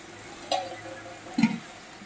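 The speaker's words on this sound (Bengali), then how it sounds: "খুব সুন্দর করে এটা কষাতে থাকতে হবে একদম জলটা থাকবে না" Taro greens being stirred and sautéed in a kadai with a scorched bottom, two soft, brief scrapes of the spoon over a low, quiet background sizzle.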